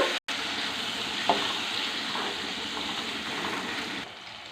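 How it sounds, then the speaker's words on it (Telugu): Dried prawns frying in a little oil for a gongura curry, giving a steady, close sizzle that breaks off for a moment near the start and softens slightly at the end. "ఇప్పుడు రొయ్యలు వేసుకున్నామండి కొద్దిగా నూనెలో వేస్తే బాగుంటాయండి"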